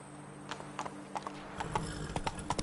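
Horse hooves clip-clop in a quick, uneven rhythm as Roach, the horse from The Witcher 3, picks up speed, the sound close and fairly quiet over a low background hum.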